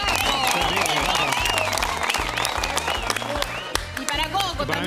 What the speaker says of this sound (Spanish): Ahora sí, aplausos para Paco.